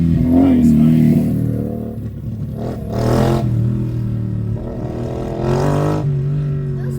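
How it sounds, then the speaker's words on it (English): Motorcycles speed past on a city street during street races, engines revving and roaring in several loud surges that rise and fall as each bike passes close by over steady traffic rumble. "Those bikes were going so fast."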